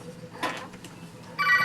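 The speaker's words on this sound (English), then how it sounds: "That's the phone." A telephone gives a short electronic ring at the end, after a few soft rustles and a faint muffled voice, fairly quiet overall.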